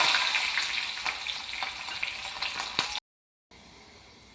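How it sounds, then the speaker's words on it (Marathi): Rapid crackling and popping of mustard seeds spluttering in hot oil, close and busy, cutting off abruptly into a brief silence before a softer hiss. "मोहरी चांगली तडतडली आहे"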